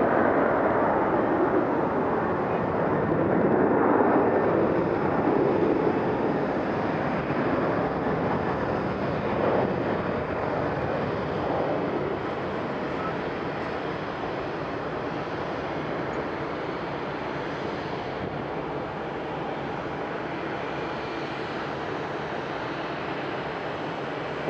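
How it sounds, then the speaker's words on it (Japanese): An ANA airliner takes off from an airport, a broad, steady jet roar heard from a distance that swells early and then eases slightly as it continues. "今離陸しますかね、どうでしょう。"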